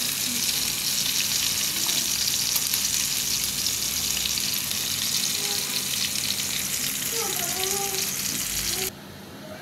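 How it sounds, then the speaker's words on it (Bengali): Fish fries in hot oil in a pan for a home-style Bengali curry, a loud continuous sizzle and crackle with a few soft utensil clinks, close by and without talk. "আপনারা দেখতে পাচ্ছেন আমি মাছটা ভেজে নিচ্ছি।"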